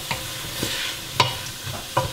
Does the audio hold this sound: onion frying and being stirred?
yes